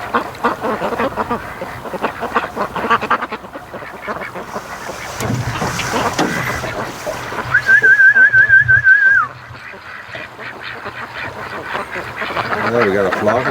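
A flock of ducks on a lake quacks through wind and boat noise, with a short whistling tone partway through.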